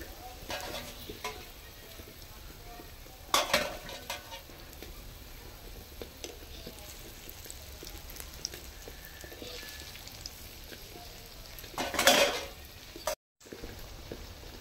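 Palm fruit fritters (taler bora) frying in a pan of hot oil, a steady low bubbling crackle with a couple of louder sizzling bursts, heard alone without talk.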